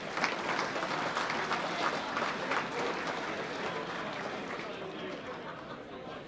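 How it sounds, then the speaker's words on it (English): Sustained audience applause at an Australian national championships awards presentation night, steady clapping from a large crowd with some chatter mixed in, fading slightly toward the end. "A round of applause again for Ben."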